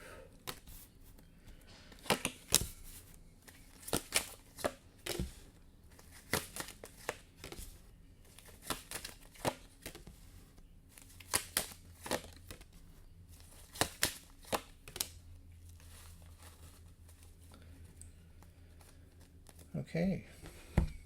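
Tarot cards are shuffled and handled in a series of quick, crisp riffles and taps that come and go close by in short bursts.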